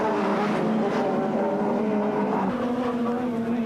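Audi and Opel Super Touring cars race at Port Elizabeth in 1996, their engines droning loud and steady with layered harmonic whine throughout, one pitch dropping slightly as cars pass near.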